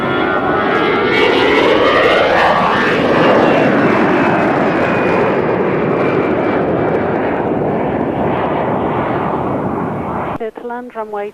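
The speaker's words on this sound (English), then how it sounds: "Getting close up with the Antonov AN-124." An Antonov An-124 cargo aircraft on the taxiway at an airfield, heard close up as a loud, steady engine roar with sweeping tonal whines that continues for several seconds before cutting off sharply near the end.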